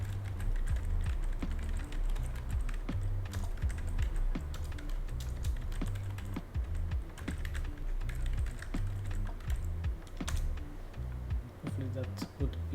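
Steady computer-keyboard typing runs the whole way through as quick, dense clicks over a low background hum, with a voice speaking throughout.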